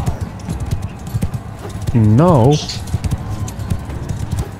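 Horse hooves clatter in a quick clip-clop rhythm in Mount & Blade II: Bannerlord, a medieval combat game, with a short whinny in the middle and a voice speaking over the scene.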